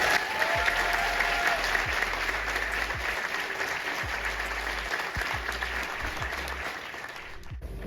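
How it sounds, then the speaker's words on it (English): A large audience gives a speaker a sustained round of applause at a talk on the Black Panther Party, a dense, even roar of clapping that holds steady and fades slightly near the end. "please give a huge round of applause for Steve Shane"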